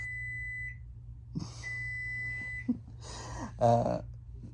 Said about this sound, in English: Oh, that's my microwave.